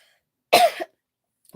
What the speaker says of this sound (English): oh, excuse me. I need to cough.